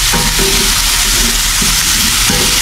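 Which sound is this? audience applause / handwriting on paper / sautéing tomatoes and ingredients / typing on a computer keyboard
sautéing tomatoes and ingredients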